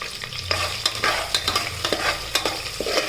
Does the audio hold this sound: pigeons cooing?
no